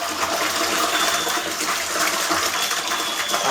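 Waste from a camper van cassette toilet pours out in a steady, loud gush of liquid while the yellow vent button is held down, a continuous rushing splash with no pauses.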